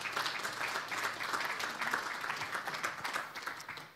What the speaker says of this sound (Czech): můžeme dát Bohu potlesk za to